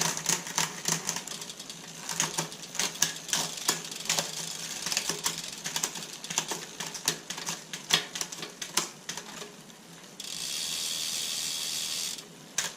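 Bicycle derailleur being adjusted during a cable replacement, shifting the chain up onto the larger rear cogs: a rapid train of close, dry clicks and ticks with brief freewheel ratcheting, ending in a steady hiss.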